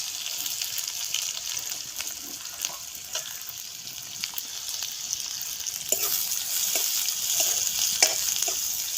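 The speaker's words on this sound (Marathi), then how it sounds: "आणि हे कांद्याला चांगला सोनेरी कलर येईपर्यंत हलवून घ्यायचंय।" Onion sizzles in a pan of hot oil with cumin, mustard seeds, garlic and ginger while a spoon stirs it now and then, a steady close frying hiss broken by soft scraping strokes.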